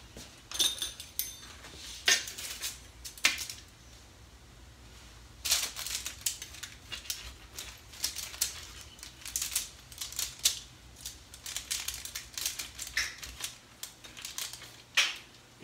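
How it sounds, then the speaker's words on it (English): A knife cuts into a cooled chicken crust pizza, giving sharp, irregular taps and clicks of metal on a plate or board with quiet gaps between them, close and fairly faint, and no one speaking. "I'm going to cut a little piece off of it and give it a taste."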